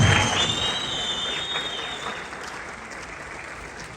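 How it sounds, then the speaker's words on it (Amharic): An audience at a film premiere claps in a dense, steady round of applause that slowly fades, with a whistle near the start and crowd voices beneath. "ናይስ ጭብጨባ፣ ሞራል ድጋፍ ያስፈልጋል።"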